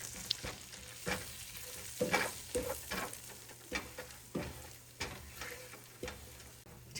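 Butter and flour are stirred together in a pan, giving a soft sizzle broken by repeated scraping strokes at an uneven rhythm, fairly quiet and close.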